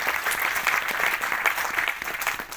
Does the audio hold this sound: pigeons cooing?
no